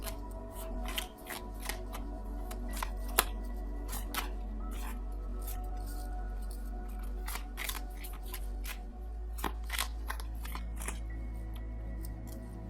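Tarot cards shuffle and are drawn, with sharp riffling snaps and taps in irregular bursts over a steady low hum, close and moderately loud.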